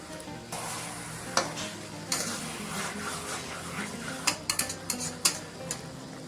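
Chicken with dill leaves sizzles steadily in a pan while a spoon stirs it, scraping and clinking against the metal in irregular knocks that grow busier toward the end.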